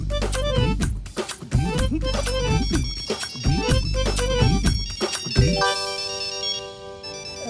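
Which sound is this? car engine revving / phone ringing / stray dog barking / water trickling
phone ringing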